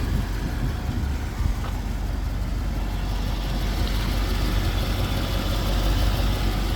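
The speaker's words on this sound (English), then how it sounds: "It's been sitting outside idling for about 20 or 30 minutes now while Mitch was doing photos." A 1966 Ford Thunderbird, warmed up after a long idle outdoors, idles with its hood open, giving a steady, low rumble with no revving.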